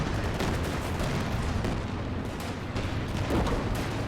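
Artillery fire booms and rumbles in a 4v4 match of the video game Company of Heroes 2, a dense, continuous barrage of overlapping blasts and gunfire with no pauses and no voices.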